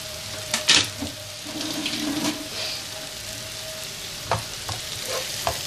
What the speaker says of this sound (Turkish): Yarım dakika daha dereotuyla beraber kavuruyorum.